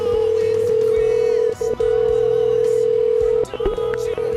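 Telephone line tone while dialing a customer support call: a steady, loud electronic tone broken by brief gaps and short dial blips, with faint background noise.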